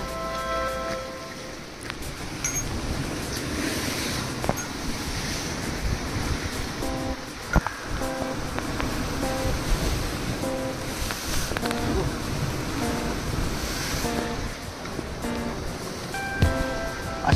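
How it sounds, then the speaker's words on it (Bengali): Ocean surf breaking on the open-sea shore at Hut Bay, Little Andaman, a steady wash of crashing waves with some wind, continuous and fairly full throughout. "সমুদ্র ওপেন সি দেখেন কত সুন্দর। হালপা মারছে"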